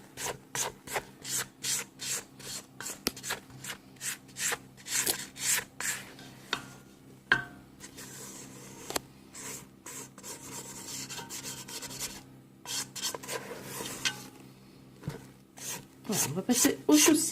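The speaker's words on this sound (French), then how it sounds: "On racle un petit peu sur les bords parce qu'il y a tendance à rester des poudres sur la maryse" A spatula scrapes the sides of a mixing bowl while macaron batter is folded, a run of close, rhythmic rasping strokes, some quick and some slower, with brief pauses between them.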